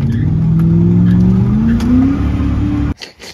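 A truck engine after an ATF flush to de-sludge it, revving hard and climbing in pitch as it accelerates for almost three seconds, loud and close, then cutting off abruptly.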